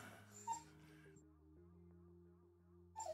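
A pet dog whimpers and squeaks in brief high yips near the start and again at the end, over a steady background hum.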